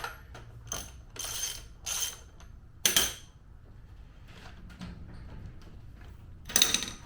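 A wrench works the front wheel axle nut (14 mm on one side, 19 mm on the other) on a Honda CRF70 in short ratcheting bursts of quick metallic clicks, with quiet pauses between them and no talking.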